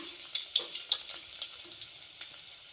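Crushed garlic hits hot oil in a home kitchen pan, giving a soft, steady sizzle with small crackling pops scattered throughout, close and fairly quiet with no talking.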